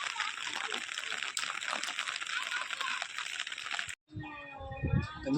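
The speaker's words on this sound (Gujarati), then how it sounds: "આ ગામનું પાણી બધું જ અહીંયા જ આવી રહ્યું છે." Heavy rainwater rushing through a village during a downpour, a dense, steady broadband wash of flowing water that fills most of the clip before a short cut to talk.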